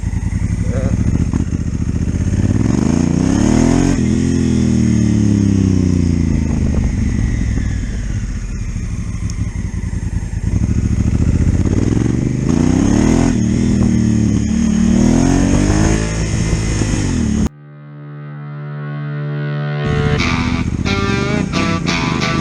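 A motorcycle engine revs and roars continuously off-road with rising and falling pitch, loud and close, then cuts abruptly into a different tonal sound near the end.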